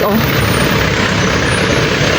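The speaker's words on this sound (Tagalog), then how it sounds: "Traffic" Dense, loud street traffic in Baguio, a continuous roar of trucks, buses and cars with a broad engine rumble and no break, with talk underneath.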